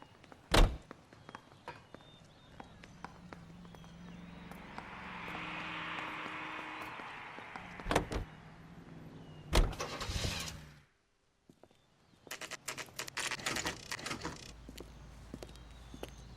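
A car door thunks shut in the video game L.A. Noire, then the engine swells as the car drives off. More sharp door and impact clunks follow, with a brief drop to near silence partway through.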